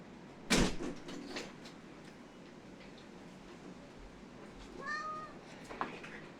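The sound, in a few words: cat meowing at a door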